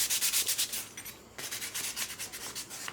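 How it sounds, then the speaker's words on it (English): Rhythmic dry rubbing of 800-grit sandpaper scuffing a Kawasaki Z900 motorcycle kickstand foot, close and steady in repeated short strokes with a brief pause midway. "I got some 800 grit sandpaper. I'm just going to scuff it up a little bit."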